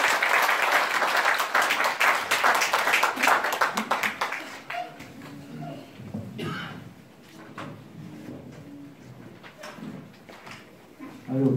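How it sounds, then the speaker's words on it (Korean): Audience applause welcoming a lecturer at a talk on electoral reform and the constitution, loud at first and dying out after about four seconds, followed by shuffling, knocks and a few bits of room noise. "우리 강사님을 위해서 큰 박수."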